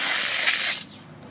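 Water sprays from an opened low point drain on a KZ RV trailer being winterized, a loud, close hissing gush that holds steady for under a second and then cuts off to quiet.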